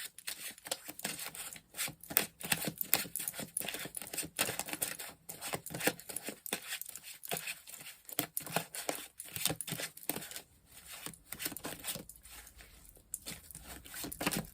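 Tarot cards being shuffled at length in a close-miked ASMR tarot reading, giving a steady run of crisp papery taps, slides and riffles without pause and with no talking.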